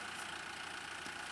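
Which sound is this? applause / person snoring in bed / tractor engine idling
tractor engine idling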